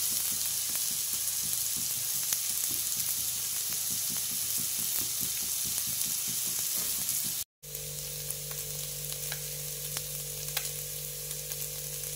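Spiced Bengali egg bhujia, scrambled egg with chilli and onion, frying in a pan: a steady close sizzle and hiss with faint stirring, briefly cut off, then sizzling on over a low hum.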